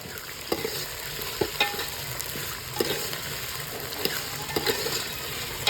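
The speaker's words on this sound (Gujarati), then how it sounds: "તો ફટાફટ બટેટા નાખી દઈએ એટલે બધી વસ્તુ છે ને હરખેથી ચડી જાય" Potatoes, peas and green chillies frying in a pan for rasiya bhat, giving a constant sizzle with periodic sharp scrapes and clacks of a spoon stirring, close up and with no voices.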